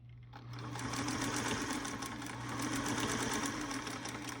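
A sewing machine runs steadily close by as it stitches a decorative Ziploc bag, a continuous whirring hum that starts after a brief pause and holds evenly to the end.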